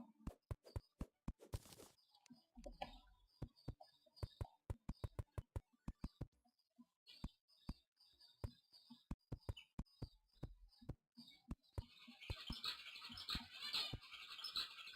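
Birds chirp in the Terraria video game, a bright high twittering that builds near the end over a steady run of sharp clicks and plopping game effects.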